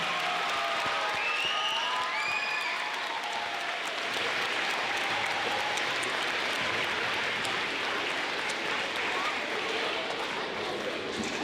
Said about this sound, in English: Please give a round of applause to my wife,